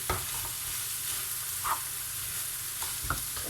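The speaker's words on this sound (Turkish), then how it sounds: "Hemen bunları bir güzel karıştıracağım." Chopped walnuts and finely minced parsley being stirred in a hot pan for a stuffed meatball filling: a constant sizzling hiss with a few soft scrapes of the spoon scattered through, close, no voices.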